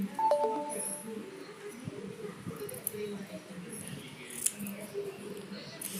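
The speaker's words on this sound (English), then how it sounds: "I'm going to cut the extra one and I'm going to cut the shape" Scissors cut a paper card shape for a handmade Mother's Day card. Soft, close snips and paper rustles come at an uneven pace over a low room murmur that may include a voice.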